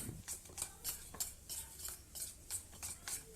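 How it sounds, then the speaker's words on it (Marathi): Ghee and powdered sugar beaten together by hand in a bowl for nankhatai dough, a spoon scraping in quick, steady strokes roughly three times a second, close and moderately loud. "व आता याला मस्त असं फेटायचं आणि मस्त फेटत राहायचं."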